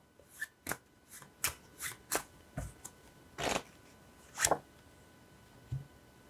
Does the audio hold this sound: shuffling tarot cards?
yes